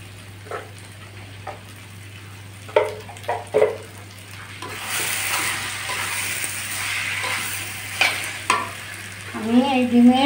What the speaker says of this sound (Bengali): মশলাটা সুন্দর করে কষিয়ে নিয়েছি বন্ধুরা